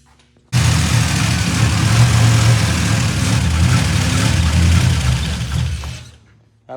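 An LS engine swapped to a 6.0 short block fires up abruptly and settles into a loud, rough, deep idle with a heavy low rumble, running steadily close by before cutting off near the end.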